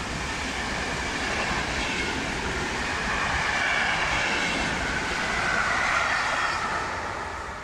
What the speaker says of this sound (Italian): Treno in transito al binario 3, allontanarsi dalla linea gialla.